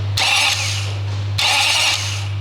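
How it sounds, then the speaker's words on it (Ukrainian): A starter motor cranks the engine of a Lexus GX470 in two separate bursts of about a second each. The whirring grind sits over a steady low hum and is heard close up, with no talking. "Стартер на місці під'єднав провід на втягуюче, перевіряємо, що працює."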